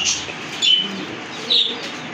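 Pigeons at a pigeon farm chirping and cooing faintly, two short calls rising over a soft background hum.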